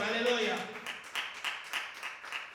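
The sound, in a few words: congregation applause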